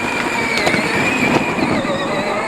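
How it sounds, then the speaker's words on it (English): A tractor drives through a high tunnel, its engine running at a steady, close and loud drone with a sustained whine and a few small clanks over the rumble. "Here comes the tractor."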